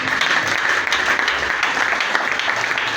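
Steady applause from a church congregation, a dense, continuous wash of many hands clapping at even loudness throughout, with no pauses or voices standing out.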